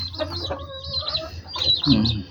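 A backyard hen clucks close by in a short burst of rising and falling calls, with a little background noise from nearby birds.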